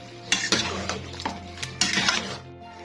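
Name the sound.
stirring chicken in a cooking pot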